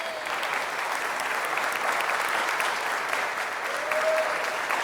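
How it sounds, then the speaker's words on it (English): An audience at a city council meeting applauds for Chad, a steady, dense burst of clapping that holds evenly for about five seconds without talk over it. "Give Chad a better hand, folks."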